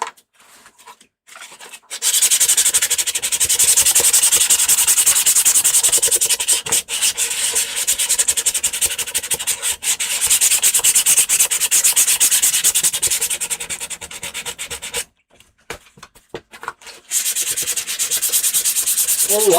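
A surface is rubbed vigorously during seasoning, making a loud, continuous abrasive scrubbing close up that starts after a short quiet stretch, drops out briefly partway through, then resumes.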